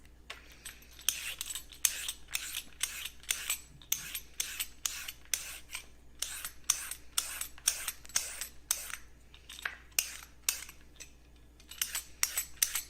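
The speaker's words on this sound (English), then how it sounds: "I'm going to cut them the way I want them with the peeler and not with the knife" Carrots shaved into thin shreds with a peeler, a quick, regular series of rasping scrapes, close and clear, repeating steadily with no talking.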